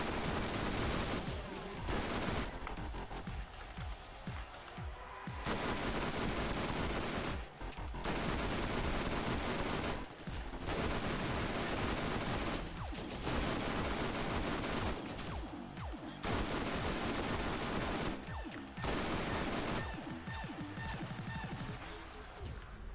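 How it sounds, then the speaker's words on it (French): Eridian Cannon firing in the Borderlands video game: loud, sustained bursts of weapon fire in repeated long volleys with brief gaps between them, dense and crackling over game noise. "Master McCloud en plus avec un flingue pas du tout mortel au corps à corps. Hein. L'Eridian Cannon."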